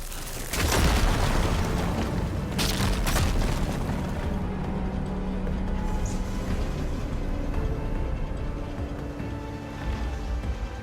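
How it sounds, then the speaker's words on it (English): A deep explosion rumbles out as a fire gleam is ignited to clear rubble in the Horizon Forbidden West video game, with a heavy boom and sustained roaring debris noise that continues without letting up. "Igniting that fire gleam should clear it."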